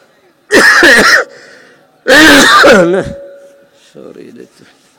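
A man coughs during an Islamic sermon, two loud, close coughs with throat rasp, separated by a pause, followed by quieter sounds.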